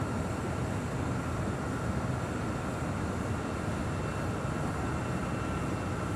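A jet airliner rumbles steadily at LAX as it lands on runway 24 right at dusk, a continuous broad roar without pauses and no talking.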